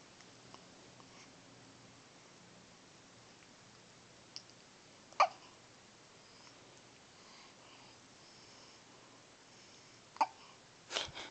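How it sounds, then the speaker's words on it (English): A young child's hiccups: three faint, sharp little catches spaced several seconds apart, heard over a quiet, steady room hiss. "Not the hiccups."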